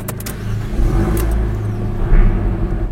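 Abarth 695 Esseesse small sporty car with a 180 PS engine, idling close by with a steady low rumble, a light rev swelling briefly near the end.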